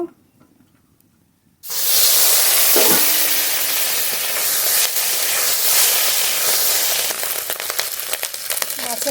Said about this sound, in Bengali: মাছের যে ডিমটা বেরিয়েছিল ডিমটাও ভেজে নেব